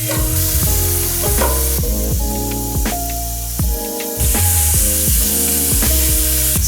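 Cauliflower gnocchi sizzling in a hot pan, a constant loud crackle broken by repeated scraping strokes of a utensil stirring the pieces.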